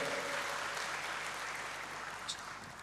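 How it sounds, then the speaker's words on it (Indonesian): A church congregation claps in praise to God after the pastor's call, a soft, steady wash of applause from a seated crowd heard at some distance, with no speech over it. "Sekali lagi berikan tepuk tangan bagi Tuhan, haleluya."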